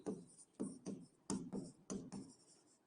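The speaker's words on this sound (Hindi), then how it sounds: "अब इसी में हम लिखेंगे" Pen writing on paper in short, close scratchy strokes, roughly six or seven bursts with brief gaps, quiet and without talk.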